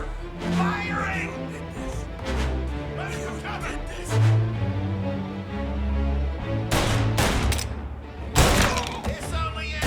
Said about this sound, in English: Hey, give me some cover! Firing!